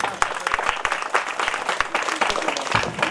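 An audience applauds for a speaker at a Marathi school program in Akola: dense, steady clapping throughout, with sharp individual claps standing out and a faint voice underneath.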